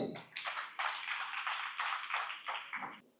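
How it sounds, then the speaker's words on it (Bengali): A small audience claps in short uneven bursts at a 40th anniversary celebration in Chattogram, the applause close and fairly quiet, rising and fading several times over a few seconds. "বৃষ্টির জন্য সবাইকে তালি।"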